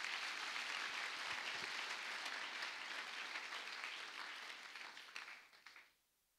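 A church congregation at a Sunday service breaks into sustained applause, a dense, even clapping that carries on steadily before thinning out and stopping near the end, heard at a modest distance with no talk.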